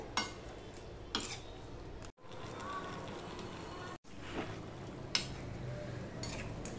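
Pumpkin greens mixed with poppy seed paste are stirred in a hot pan, giving a soft continuous sizzle with scattered scraping spoon strokes, close but fairly quiet, broken by two brief cuts to silence.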